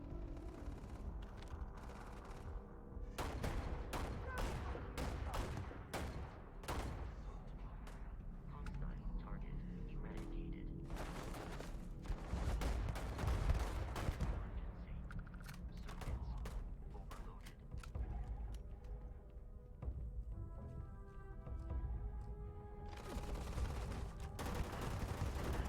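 A gun firing in the sci-fi game Starfield: repeated sharp shots and rapid bursts ring out through a firefight, with clanking and creaking mechanical noises between them and someone talking over parts of it.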